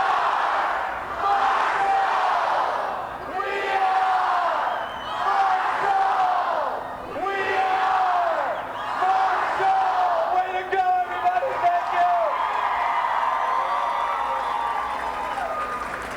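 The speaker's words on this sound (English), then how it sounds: "Cheer on three, We Are Marshall" A premiere crowd for We Are Marshall shouts a unison chant in repeated bursts, loud rhythmic group cries rising and falling over about a dozen seconds with scattered cheers and whoops in between.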